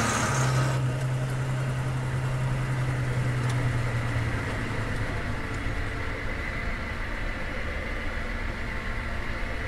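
A Hummer engine idles with a steady low rumble and a faint whine over a constant hum, continuing evenly for about ten seconds with no talking.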